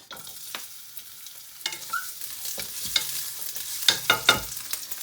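Chopped onion stir-frying in a pan for a simple home stir fry, giving a steady soft sizzle broken by a string of sharp scraping and clattering stirs, close and moderately loud with no talking.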